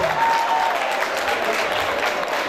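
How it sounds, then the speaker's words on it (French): Dense crowd applause fills the hall at an installation ceremony for a Guinean association's new board in Washington, DC, a continuous steady wash of clapping from start to finish. "Applaudissez très fort"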